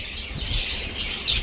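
A flock of budgerigars chirping in an aviary cage at a park near Kolkata, a dense, continuous high chatter of overlapping tweets, fairly close and steady.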